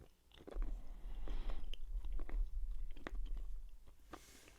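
Stale gum from 1991 Topps baseball card wax packs being chewed close up, wet smacking and soft crunchy bites in a slow, continuous rhythm.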